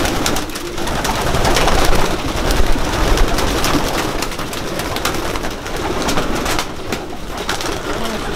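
Many racing pigeons coo and rustle together close by, a dense, continuous murmur of soft throaty calls with occasional wing flutters.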